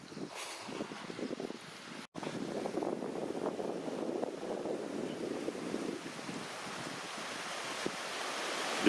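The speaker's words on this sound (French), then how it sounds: "Des cascades." Mountain waterfalls in the cirque d'Estaubé, Hautes-Pyrénées, pour with a continuous hissing roar at moderate level, unbroken and free of talk.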